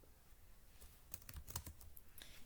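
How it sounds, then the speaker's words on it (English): Quiet typing on a computer keyboard, a short burst of soft, irregular key clicks starting after a brief pause and continuing to the end. "I'm going to type the text"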